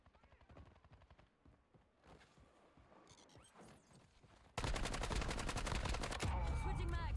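Video game gunfire, rapid bursts of shots with a few loud single cracks, then a sustained, very loud stretch of automatic fire in the final seconds.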